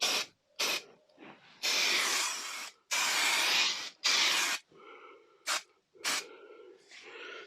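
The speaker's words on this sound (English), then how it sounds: "I'm just going to use a bit of spray glue just to hold this on" Spray glue is sprayed onto van insulation in a series of close, sharp hissing bursts, some short and some lasting about a second, with quieter gaps and faint handling sounds between them.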